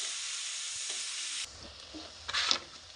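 Onions fry in a pan until brown with a loud, even sizzle that drops away abruptly to a quieter crackle, followed by a short stir.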